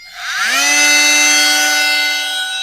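A Makita oscillating multi-tool spins up and holds a loud, steady high-pitched whine for a few seconds, close by with no talking.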